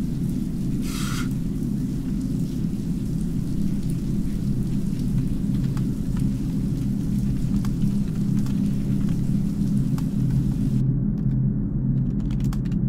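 Steady rain pours alongside low rolling thunder rumbles in the video game Signal Simulator, a dense continuous wash with occasional crackles, all without any voices.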